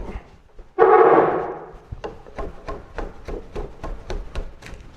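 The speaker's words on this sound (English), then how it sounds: "I'll start my chisel right in the very edge of that" A hammer taps a chisel into southern yellow pine in a woodshop, a quick run of about ten crisp, evenly spaced strikes following a brief scraping rub, close and clear.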